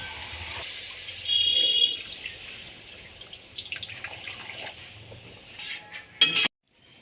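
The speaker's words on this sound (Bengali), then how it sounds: "এবার আলুটাকে ভালো করে কষে আমি জল ঢেলে দেব।" Water is poured into a pan of fried potatoes, giving a steady hiss and sizzle from the hot pan, close and moderately loud, with a louder splashing burst before the sound abruptly cuts off.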